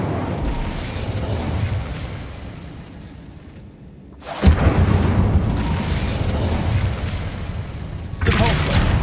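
A fiery Incendio spell cast in Hogwarts Legacy, a sudden loud whooshing burst midway that roars on, then a second blast near the end, over game background sound and a voice.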